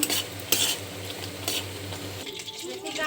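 Broken wheat (dalia) cooking in ghee in a wok gives a close crackling sizzle, with scraping stirs and a few sharp utensil knocks against the pan over a few seconds.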